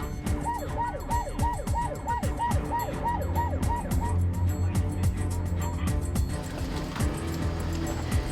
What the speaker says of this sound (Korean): 위급 상황을 알리는 사이렌 소리